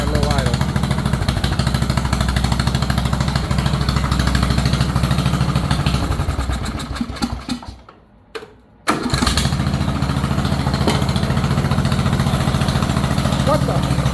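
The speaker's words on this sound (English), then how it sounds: "Look at that low idle." A John Deere tractor engine runs at a low idle, a steady, close, loud chugging that drops out for about a second midway, then returns just as strong; a voice talks over it.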